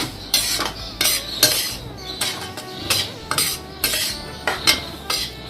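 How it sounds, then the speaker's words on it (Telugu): A spoon stirs ground semolina and sugar in a bowl for a ravva laddu, scraping and clinking against the sides in a steady rhythm of repeated strokes, close and fairly loud, with no talking. "ఇప్పుడు ఇది కలిసేలా కలుపుతున్నాము."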